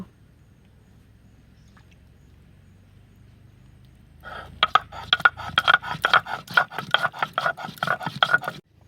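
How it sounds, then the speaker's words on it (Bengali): Garam masala spices being ground by hand on a grinding stone, a close series of rough, rhythmic scraping strokes that starts after a few seconds of near silence and continues steadily to the end. "এবার গরম মশলাটা বেটে নেব।"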